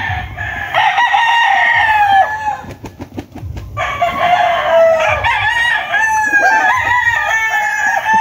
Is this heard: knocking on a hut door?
no